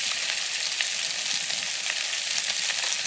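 Small cut potato pieces frying in plenty of oil for aloo posto, a dense, even sizzling hiss that stays steady and close from start to finish, with faint stirring underneath.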